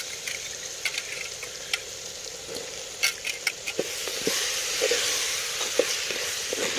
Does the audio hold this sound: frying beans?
yes